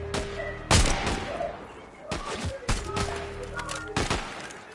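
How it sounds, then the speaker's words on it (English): Gunfire in the video game Fortnite, loud sharp shots and short bursts scattered across the clip, with a player talking faintly underneath. "My dude is shooting into the snow."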